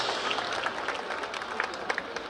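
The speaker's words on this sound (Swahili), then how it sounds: "Tuwashangilie kwa makofi wana miavuli wetu tafadhali" An outdoor crowd at a trade fair applauding parachutists who have landed, dense continuous clapping with scattered louder claps, moderately close, with faint voices mixed in.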